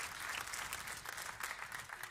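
Applause from a church congregation during a Spanish-language sermon, a steady, dense wash of clapping hands that stays even and moderately loud for about two seconds, with no voice over it.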